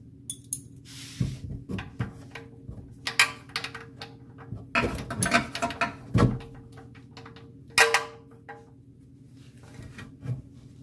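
An oil drain plug on a 2008 Toyota Sienna minivan is tightened clockwise during an oil change, heard as sparse close metallic clicks, taps and scrapes of a tool with short pauses between, with no talking.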